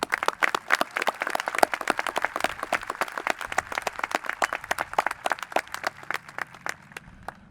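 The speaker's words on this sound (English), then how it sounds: "an extra round of applause" Applause for graduating seniors at a Dearborn High School commencement ceremony, with distinct, fairly sparse claps from a modest crowd in a quick, uneven rhythm that thins out toward the end.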